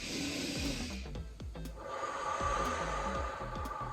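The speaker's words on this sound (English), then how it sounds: "I'm breathing into my ribs." Deep, slow breathing during a seated chair stretch with rotation, a long exhale then a fresh inhale, close and audible with soft rasping noise.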